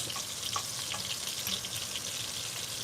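Onions sizzle softly in a cast iron skillet alongside a hamburger steak, a steady quiet frying hiss with faint crackles and no talking.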